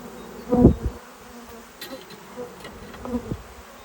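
Honeybees buzz around a hive entrance where foragers return with pollen loads, a couple of closer passes swelling briefly loud over a steady faint hum.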